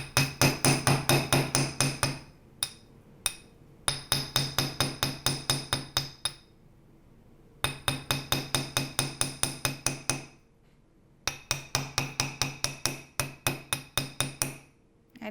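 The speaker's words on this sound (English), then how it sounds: "So taking my chasing hammer," A chasing hammer flattens a wire earring hook on a metal block, sharp ringing taps struck in rapid runs of several blows separated by brief pauses, close and bright, no talking.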